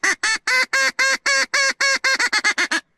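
A hand-blown mallard duck call makes a rapid series of about fifteen loud, nasal quacks, near and even at first, then quicker and shorter toward the end, imitating a hen mallard's hail.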